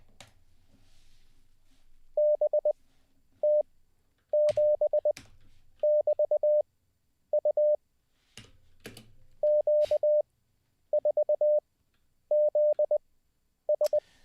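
Morse code tones beep in short and long pulses of a single steady pitch, grouped in clusters with pauses between, alongside a few sharp clicks and faint background noise.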